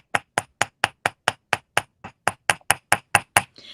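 A leather, rawhide or rubber mallet strikes repeatedly at a steady, even pace while a button is turned into a bead, giving about fifteen sharp, close blows.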